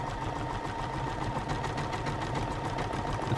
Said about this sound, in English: Now the machine is busy stitching the buttonhole with the fabric clamped